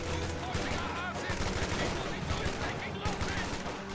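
Video game battle gunfire from BAR riflemen and an MG42, a dense continuous crackle of overlapping shots and bursts at moderate volume, with a commentator talking over it.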